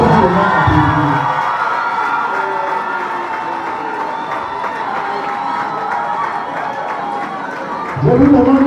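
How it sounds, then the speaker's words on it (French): Crowd cheering and clapping at a French-speaking political gathering, a loud sustained roar with shouts and whoops, rising again at the end as a voice comes in. "Je vous demande une fois de plus d'applaudir le chocolat des filles."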